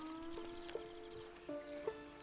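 Steady clip-clop of horse hooves in the video game Red Dead Redemption, with a harmonic whinny-like tone running through, periodic louder hoof knocks at a walking rhythm, no talking.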